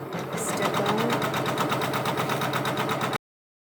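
A Janome MB4 embroidery machine stitching a stipple fill in the hoop for a tissue holder, running as a steady rapid mechanical whirr with even needle strokes, close and continuous for about three seconds before cutting off.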